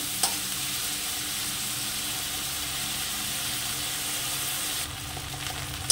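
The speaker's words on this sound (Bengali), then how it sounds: "চিংড়ি মাছটা একটু ভেজে নেবো।" Prawns sizzling steadily in oil in a pan, a constant broadband hiss with a brief stir or clink near the start and a softer patch toward the end, no voices.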